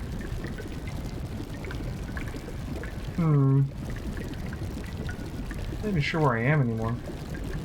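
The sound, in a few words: water flowing in Xenogears video game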